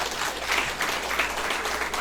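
Wedding guests applaud at a church wedding ceremony for Karma and Sanjita, a steady, moderately loud wash of clapping from a crowd that carries on for about two seconds.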